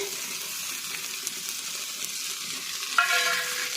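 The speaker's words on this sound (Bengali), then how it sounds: "আমার কিন্তু পেঁয়াজ ঝালগুলো ভাজা ভাজা হয়ে গেছে" Sliced onions and green chilies frying in oil in a pan, a steady close sizzle with a few soft stirring scrapes and a brief clatter near the end, no talk.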